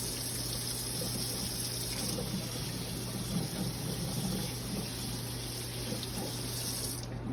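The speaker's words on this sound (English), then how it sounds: "First thing when washing your hands is that you need to get in every crease and corner so that your hands are properly washed." Water runs steadily from a tap into a sink while hands are washed beneath it, a constant close hiss and splash with a low hum underneath and no talking.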